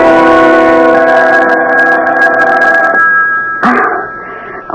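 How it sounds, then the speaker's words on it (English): A loud telephone bell rings in long repeated bursts, a sound effect from a 1977 CBS radio mystery drama, filling the first three seconds, then a brief further ring before it stops. "The phone."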